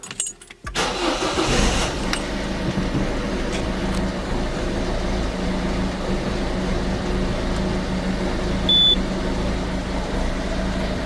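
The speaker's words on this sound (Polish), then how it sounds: "pierwsze odpalenie" A 1.6 HDI diesel car engine with check engine light on, after EGR valve replacement, cranks briefly and catches, then settles into a steady, loud idle rumble that continues unbroken.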